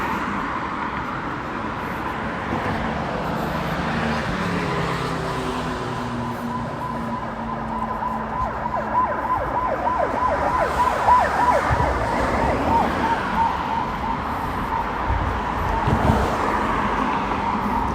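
Busy street traffic rolls past at night while a siren wails and sweeps up and down through the steady rumble of cars, heard from the roadside.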